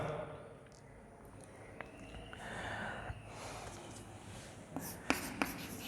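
A pen writing on paper in a school English grammar class, with soft, faint scratching and a few sharper ticks over steady room noise.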